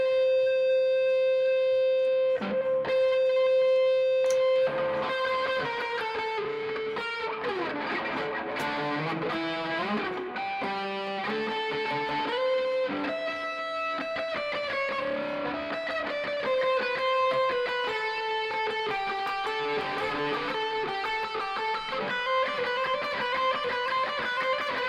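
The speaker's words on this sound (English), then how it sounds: "It's now in distorted mode. And actually, I'll put on even a heavier distortion on it." Heavily distorted electric guitar with humbucker pickup plays continuously, thick sustained chords and riffs ringing out loud with saturated, fuzzy tone and no voices.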